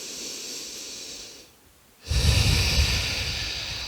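A person breathing during a yoga sculpt workout, a steady breath sound that drops away briefly before a louder, closer inhale or exhale fills the rest of the moment.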